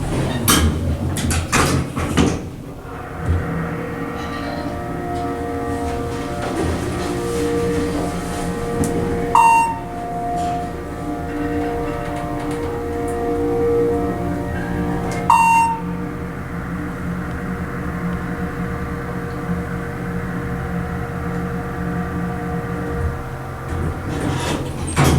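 ThyssenKrupp hydraulic elevator motor at a Hampton Inn & Suites in Folsom, California, running with a steady drone and tonal hum through the whole ride, a door clunk at the start and two short chimes along the way.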